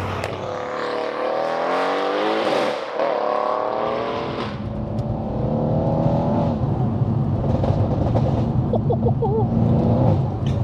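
A tuned 800 bhp biturbo Mercedes-AMG C63 engine burbles and revs loudly up close, with crackling exhaust pops on the overrun as the throttle lifts.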